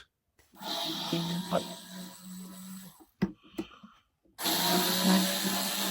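A power screwdriver or drill whirs in bursts while removing screws from a ride-on carry-on luggage stroller with a kids seat, a long close run, a short stuttering burst, then another sustained whir.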